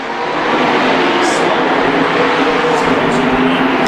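Sprint cars race around a dirt track at a Summer Thunder Sprint Series heat in Central Washington, a loud, continuous engine roar that holds steady throughout.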